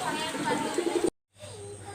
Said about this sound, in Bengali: একটা ফিমেল কবুতর এবং সাথে একটা বেবি আছে